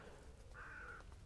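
A rook or crow gives a single hoarse caw, faint and distant, over a low outdoor rumble at a fishing and camping spot.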